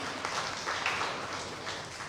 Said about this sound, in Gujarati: એના માટે લાઇબ્રેરી માટે અને જયુભાઈ માટે આપણે તાળીઓથી વધાવી લઈએ